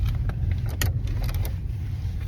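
A VW Passat SE on a test drive after a spark plug replacement, a steady low engine and road rumble filling the cabin, with a few faint clicks and rattles over it and no talking.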